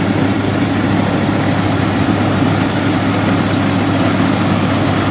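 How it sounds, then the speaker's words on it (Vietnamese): A FMWORLD WD102PRO cutting machine with a 102-horsepower engine runs in a loud, steady, low-pitched drone that stays constant throughout, with no voices. "Bởi vì động cơ nó tới 102 mã lực nha các bạn."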